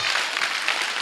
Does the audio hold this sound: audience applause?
yes